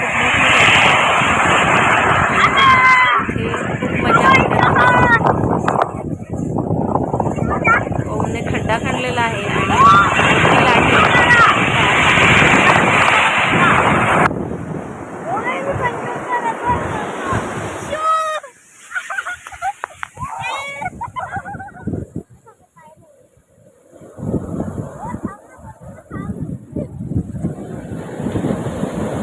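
Loud roaring surf of high-tide waves at a rough sea and wind buffeting the microphone, with excited voices talking and shouting over the crashing waves on the beach.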